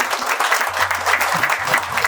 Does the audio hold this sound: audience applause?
yes